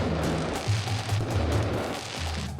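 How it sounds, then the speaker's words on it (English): Fireworks and petardos go off at the Fallas festival in Spain as a dense, continuous rumble of crackling blasts and deep booms, loud and sustained, with no clear gaps between bangs. "you can see them light all the fireworks and petardos on the way to the falla, and then it goes all at once"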